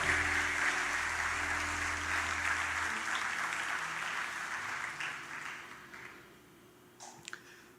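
Church congregation clapping during a sermon, a steady wash of applause that gradually fades out, ending with a few scattered claps.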